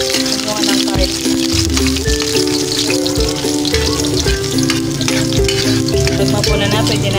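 Garlic sautés in a pan for adobo sitaw, a bright sizzle running under steady music, with spoken voice also present.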